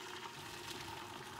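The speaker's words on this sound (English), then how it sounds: "I'm going to pour the water into the pan so that it covers up my tea set." Boiled water being poured into a pan over a silver tea set makes a steady, close pouring splash with a continuous rushing hiss and no talking.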